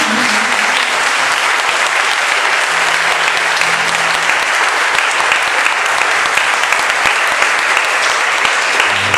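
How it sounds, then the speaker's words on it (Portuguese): A church congregation gives Padre Sérgio a long round of applause after an evening Mass. Dense, loud clapping continues evenly throughout, with faint crowd murmur and brief organ tones underneath. "Vamos agradecer ao Padre Sérgio, que veio celebrar aqui conosco esta noite, com uma salva de palmas"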